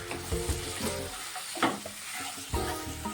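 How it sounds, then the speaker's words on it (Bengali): Spice paste with ground cashew and melon seed frying and being stirred in a pan with a little water, a steady close sizzle broken by scraping stirs. "সামান্য জল দিয়ে মশলাটা কষিয়ে নেব।"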